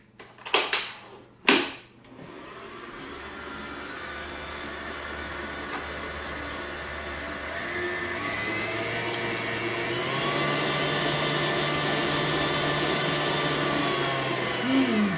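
An electric mixer creams shortening and butter for ginger snap dough: a couple of sharp knocks, then a whirring motor whine that shifts pitch and grows as the beaters work, steady and close.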